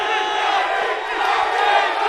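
Loud, dense crowd cheering and whooping for Justin Gaethje at the UFC 274 press conference in Arizona, a continuous roar of many voices sustained throughout without a break.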